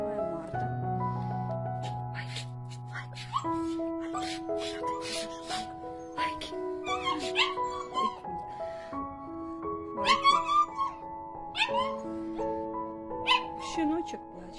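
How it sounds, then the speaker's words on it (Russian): A helpless puppy found lying in a deep forest whimpers and cries with repeated short, high yelps and whines, heard under steady background music. "Щеночек плачет."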